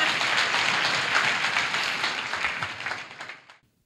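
A church congregation claps together in a sustained, dense burst of applause that fills the room, then fades out toward the end.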